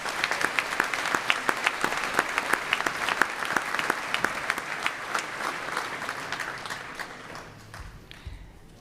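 Large graduation-ceremony crowd applauds engineering graduates with dense, steady clapping that gradually thins and fades near the end.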